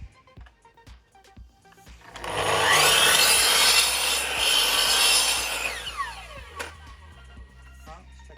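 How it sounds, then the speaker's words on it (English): A saw cutting through the end of a wooden board in a small workshop, rising to a loud, steady rasp for about four seconds and then tapering off, with quieter clatter and handling before and after. "Now with these boards, always trim both ends, because the first cut from the factory is never going to be square."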